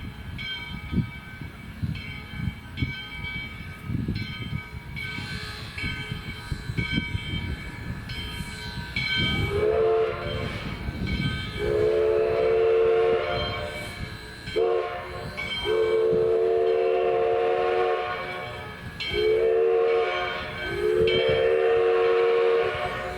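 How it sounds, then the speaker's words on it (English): US Sugar steam engine 148 backs into a spur track. A low rumble and clanking give way to a series of repeated whistle blasts, spaced every couple of seconds, fairly close and loud. "Here, the 148 would cut off from the train and back into the spur track leading to"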